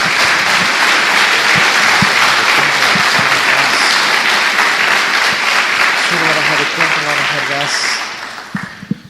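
A church congregation claps loudly and continuously for Jesus during a sermon, a dense sustained wave of applause with voices rising through it, tapering off near the end.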